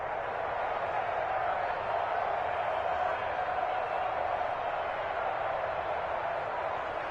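Stadium crowd in an American football video game, a steady broad roar of cheering spectators building ahead of a big third down, sustained and even throughout.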